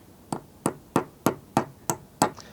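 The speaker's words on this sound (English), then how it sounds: "now that you've hammered it in" Seven evenly spaced hammer blows strike a metal tie wire drive installing an outdoor shade cable, steady and close, each a sharp ringing knock with no talking.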